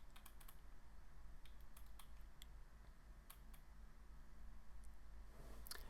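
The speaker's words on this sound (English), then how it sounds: "give the post a title and begin typing your body" Typing on a computer keyboard while writing a WordPress post, with a steady patter of soft key clicks in uneven bursts over a constant low room hum.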